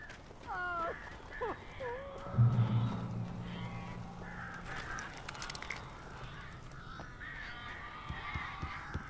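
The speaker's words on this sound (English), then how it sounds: "These birds are weird." Crows caw a few times in the Alan Wake video game, brief harsh calls near the start, followed by a low droning tone and scattered clattering noises.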